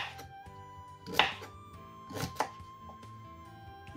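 A kitchen knife chops through sweet potato on a board in a few sharp, distinct strokes, close and clear over a faint steady background hum.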